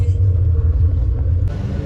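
Low, steady road-traffic rumble in Dharamshala, a continuous close engine drone with no distinct passes, shifting slightly in tone near the end.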